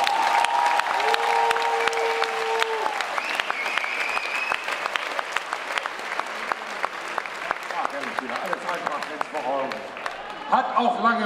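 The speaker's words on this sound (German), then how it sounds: "Einen lauten Applaus für The Aspirants!" A crowd at a Braunschweig football club's player presentation gives sustained applause, dense clapping with a few whistles, while an announcer's voice speaks over it through loudspeakers.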